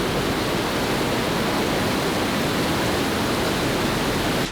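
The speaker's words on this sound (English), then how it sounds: "The sound of the rushing water provides a sense of tranquility and peace." Rushing water of the Buna River flowing beside a monastery in Mostar, Bosnia and Herzegovina, a steady, loud broadband roar with no break throughout.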